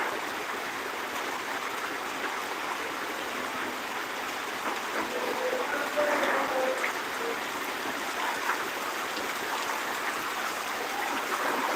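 Heavy rain pours down steadily outdoors on a rainy day, a dense, unbroken hiss that holds at the same level throughout with no voices.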